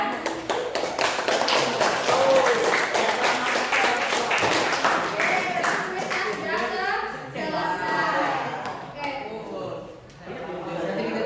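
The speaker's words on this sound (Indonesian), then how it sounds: "Tepuk tangan untuk kalian semua" Students applaud together in a classroom, a dense burst of clapping that thins out over several seconds, mixed with children's voices chattering.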